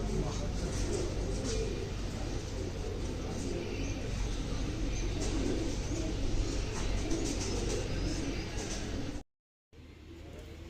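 Panjabi breed pigeons cooing in a loft, soft repeated low coos under steady background noise and someone talking, ending in a brief cut to silence.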